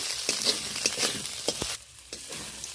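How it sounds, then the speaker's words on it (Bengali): Ginger paste, onion and tomato sizzle in a frying pan while a spoon stirs, scraping in short repeated strokes over a bright frying hiss that drops quieter near the end. "আদা বাটা দেওয়ার পরে এটা আবারও ভালো করে নেড়ে চেড়ে নেবো একটু পেঁয়াজ টমেটোর সাথে 2-4 সেকেন্ড ধরে"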